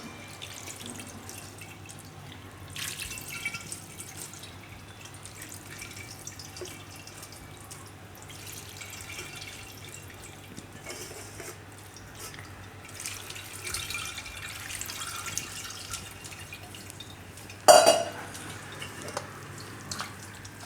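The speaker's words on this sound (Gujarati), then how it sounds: "આમાં આપણે થોડુંક ઠંડુ પાણી નાખી દે આ રીતે" Cold water runs and pours steadily over cooked Maggi noodles in a vessel, a soft continuous splashing with a brief louder splash near the end.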